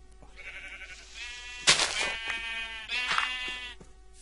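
Sheep bleating on a farm in the video game Minecraft: several wavering, harmonic bleats in sequence, a loud one near the middle followed by another, heard alone without talk.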